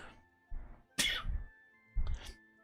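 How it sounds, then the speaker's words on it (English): A quiet, close sneeze from a game character comes as a few short bursts: a small intake, then a sharp burst and a softer follow-up, with no talk around it. "I have to sneeze."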